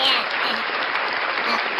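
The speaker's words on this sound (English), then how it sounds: "Oh yeah, claps." Steady applause from a group fills the short stretch at an even level, with no voices rising above it.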